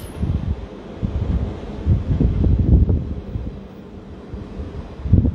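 Wind gusting into a microphone outdoors, producing uneven low rumbling buffets that rise and fall over several seconds, with a stronger burst near the end.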